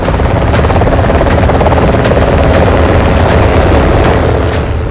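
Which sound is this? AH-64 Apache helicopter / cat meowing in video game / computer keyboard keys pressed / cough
AH-64 Apache helicopter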